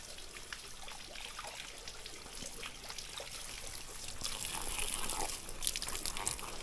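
Cold mountain water streams and trickles steadily near Taal Lake, a continuous close rushing wash that swells slightly louder toward the end.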